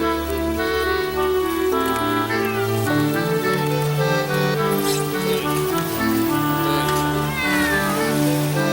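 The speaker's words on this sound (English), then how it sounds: "Oh, there's a cat in the tree." A toy cat meow sound effect from a Fisher-Price Terrific Trips fire station playset, heard as brief meows over a continuous loud jingly electronic toy melody.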